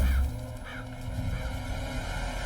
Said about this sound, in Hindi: कौवा भी काव काव करके कुछ कहना चाह रहा है।